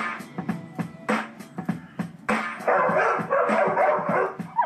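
A small Yorkshire Terrier cross barks in a rapid run of sharp, yappy barks close by, the bursts coming in quick irregular bouts with brief gaps.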